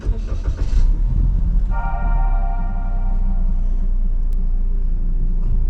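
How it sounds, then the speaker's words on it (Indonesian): A Daihatsu Rocky 1200cc CVT starting by push button: a brief cranking burst, then a steady low engine rumble close by, with a short chime tone over the idle. "Kita tinggal menekan engine start stop ini, tetapi rem harus diinjak."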